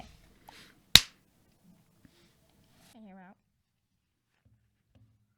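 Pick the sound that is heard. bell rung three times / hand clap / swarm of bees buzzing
hand clap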